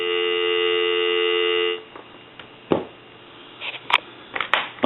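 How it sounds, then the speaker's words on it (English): Dial tone from a Kellogg crank wooden wall telephone converted for modern use: a steady, clear tone lasting under two seconds, then cut off, followed by faint clicks and handling noises. "Go ahead and give you some dial tone."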